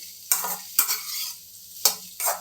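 Bitter gourd slices frying in hot oil, with bright crackling sizzle and four quick bursts of stirring scrapes against the pan, close and fairly loud with no voices.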